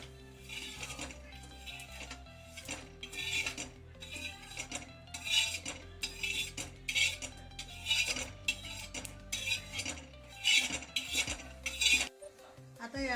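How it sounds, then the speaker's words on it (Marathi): A metal spoon scrapes and clinks against a pan as roasted ingredients for a mixed red chutney are lifted out. The taps come in close, irregular bursts over a steady low background hum. "भाजून झालेली मी काढून घेते।"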